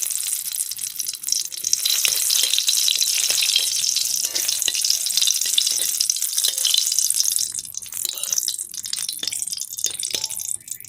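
Bay leaves and dried red chillies frying in hot oil make a loud, steady sizzle close by, crackling continuously with a few stirring clatters and no voices.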